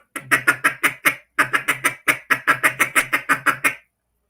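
A duck call imitates a single feeding duck with rapid, evenly spaced chattering notes in two bursts, loud and close with no talking.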